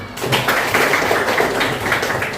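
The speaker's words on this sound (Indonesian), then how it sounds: "kita beri aplaus dulu semuanya" A classroom of students applauding group presentations, a steady patter of many hands clapping together at close range, sustained throughout without pause.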